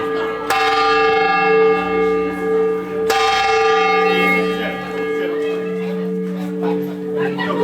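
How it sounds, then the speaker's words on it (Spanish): A church bell in a Seville tower is struck twice, about three seconds apart, each clang loud and close with a long shimmering ring that hangs and slowly fades. "en 5 minutos va a sonar esta campana"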